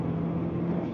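A race car on the Nürburgring circuit accelerating early out of a corner, its engine giving a steady, sustained drone with a clear tonal hum, heard alone with no talk over it.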